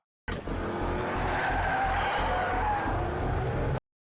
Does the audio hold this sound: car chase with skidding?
yes